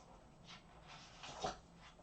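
A small pet dog snuffles and whimpers faintly indoors, with soft breathy sniffs and a brief louder whine near the end against quiet room noise.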